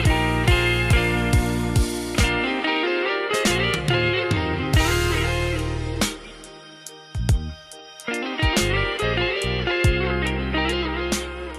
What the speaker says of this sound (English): This is the Pico Intelligent Harmony Machine, and it sounds like this.